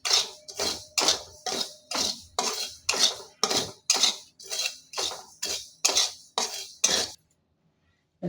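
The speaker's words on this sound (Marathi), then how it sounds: "सुरुवातीला खसखस कोरडीच भाजून घ्यायची, गोळी गोळी भाजायची" Poppy seeds dry roasting in a pan for dry-date laddoos, heard as a steady series of about fourteen rhythmic metallic scrapes and clinks of a stirring spoon against the pan, close and clear, stopping abruptly near the end.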